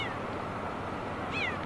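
A tiny kitten stranded on a high ledge several stories up gives a short, thin, rising cry over a constant wash of outdoor noise, faint and distant.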